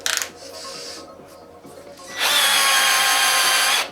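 A Ryobi PDD209 cordless drill gives a short whir, then after a pause runs at full speed with a steady high whine for under two seconds, close by.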